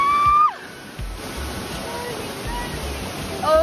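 Kai Bae Waterfall on Koh Chang, a steady broadband rush of falling water close by, with voices and birdsong briefly heard at the start and end.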